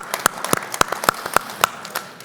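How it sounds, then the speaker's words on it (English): Sparse clapping from a small audience at a CES recap panel, a few sharp, evenly spaced claps ringing out close and distinct with quiet gaps between them. "Give him a round of applause for Dominic."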